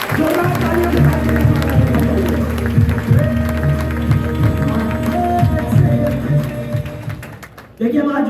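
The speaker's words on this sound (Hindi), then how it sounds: "जोरदार तालियों के साथ इनका स्वागत होना चाहिए" Seminar audience gives sustained clapping to welcome newcomers, dense and loud, continuing steadily for several seconds before a brief dip and a last burst.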